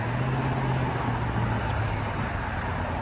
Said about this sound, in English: We're on North Broadway, so it's going to be very, very loud. So I'm going to try to talk over the traffic.